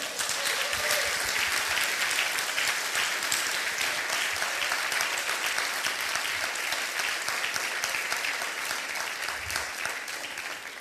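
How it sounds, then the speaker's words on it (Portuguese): A church congregation applauding for the Lord during a Portuguese-language sermon, a dense, steady wash of clapping that stays loud and even throughout and eases off slightly near the end. "Você pode aplaudir ao Senhor?"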